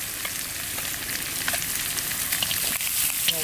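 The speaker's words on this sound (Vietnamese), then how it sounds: "cá này anh em mình chiên qua đến cái tầm kia là được rồi" Pieces of black catfish fry in a pan, a continuous crackling sizzle with scattered pops, close and fairly loud, with no talking.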